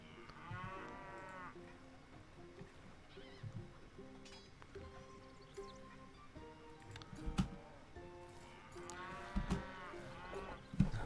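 Cattle at cow farms in the Stronghold HD video game moo repeatedly, several drawn-out calls near the start and end, mixed with game sound effects, clicks and a steady backing tune.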